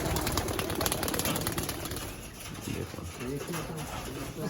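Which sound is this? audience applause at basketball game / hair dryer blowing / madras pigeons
madras pigeons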